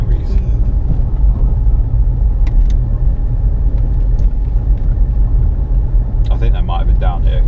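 A car drives slowly along a country lane, its low steady engine and tyre rumble loud and close from inside the cabin, with a few light knocks and people talking briefly near the end.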